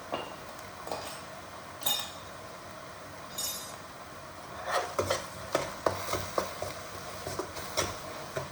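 Salted eggs are stirred and sautéed in a pan, with a faint sizzle at first. Then a run of quick, close scraping and clinking strokes from the utensil against the pan follows, with no talking.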